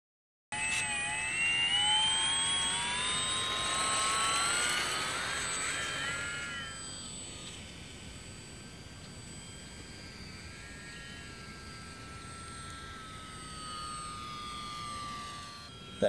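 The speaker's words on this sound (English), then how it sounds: "That was our maiden takeoff." An E-flite Micro Draco 800mm electric RC airplane whines loudly as it takes off, then its motor pitch sweeps and fades into a steadier, more distant drone as it flies off.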